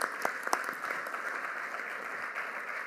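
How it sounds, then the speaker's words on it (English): An audience at a Philadelphia school district event applauds with a dense, steady clapping that carries on through the whole stretch with a few sharper claps near the start. "Let's give her a big round of applause."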